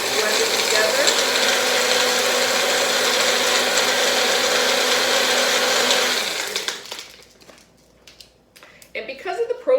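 A countertop blender whirs steadily as it purees yogurt with strawberry rhubarb sauce, fresh berries and honey, a loud continuous motor drone that cuts off abruptly after about six seconds, leaving faint clinks and handling noises.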